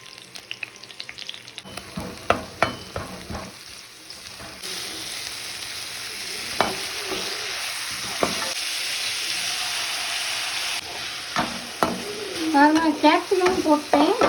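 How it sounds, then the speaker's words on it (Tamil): Capsicum sautéing in a hot pan for veg hakka noodles, a continuous close sizzle broken by repeated scraping stirs of the spatula, with no talk over it. "கேப்சிகம் போட்டு நல்லா வதக்குறேன்."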